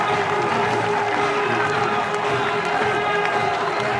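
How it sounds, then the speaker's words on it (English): Cricket crowd at a Bangladesh versus Australia match in Cardiff cheering after a catch, a loud, dense roar of many voices that holds steady throughout. "Cries of easy in the crowd."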